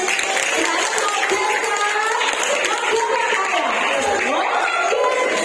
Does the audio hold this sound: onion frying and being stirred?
no